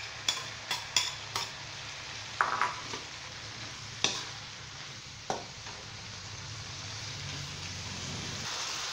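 Long beans with shrimp paste and dried shrimp stir-fried in a hot wok, a steady sizzle running throughout, broken by several sharp scrapes and clacks of the spatula.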